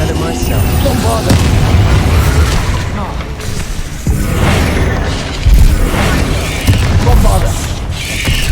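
Bombarda spell blasts in Hogwarts Legacy rumble loudly with heavy, sustained booms. They swell and surge repeatedly over a busy background of combat noise.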